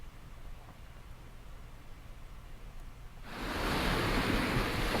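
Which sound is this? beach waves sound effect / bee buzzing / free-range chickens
beach waves sound effect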